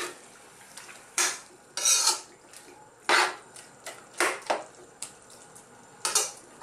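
A spoon clanks and scrapes inside a cooking pot as callos ingredients with sausage and carrots are stirred, giving sharp irregular metallic knocks over a soft background sizzle, close and without talk.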